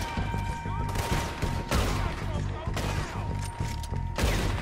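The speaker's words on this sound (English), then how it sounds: "I'm looking where they're shooting at though" Rifle gunfire in Red Dead Redemption 2 crackles in a loud rolling volley, shots and echoing bangs piling over one another, with voices talking underneath.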